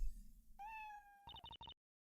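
Cat meowing in the Professor Layton vs Phoenix Wright video game: one drawn-out meow followed by a few quick chirpy mews, clear and close, then silence.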